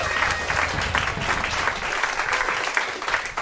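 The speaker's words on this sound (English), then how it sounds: "Big round of applause for Lucy" A story slam audience claps steadily and fairly loudly for a performer as she is welcomed to the stage, a dense, even wash of hands with no break.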